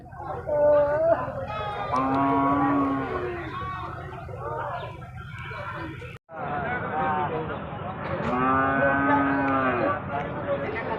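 Heifers at a livestock haat in Ullapara, Bangladesh, low repeatedly in long, drawn-out moos that rise above a steady crowd murmur and background voices, with one brief break in the middle.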